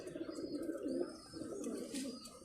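Pigeons kept in a loft give a steady run of low, throaty coos that overlap at close range, with light twittering above them.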